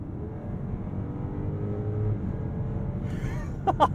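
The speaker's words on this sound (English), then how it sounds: "And then the twin-turbo V8 power." A 2023 BMW 760i with a twin-turbo V8 builds speed as a subdued engine drone rises under cabin and road noise, heard from inside, with a brief brighter burst near the end.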